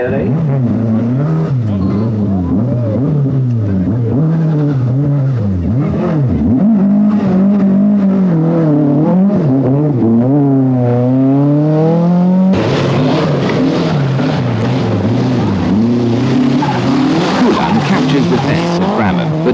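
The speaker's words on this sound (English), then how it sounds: "Eklund is struggling with this tightening right-hander." A rally car from the 1982 RAC Rally works through a tightening right-hand corner, its engine note rising and falling loudly and continuously as it brakes and accelerates, with a commentator talking over it.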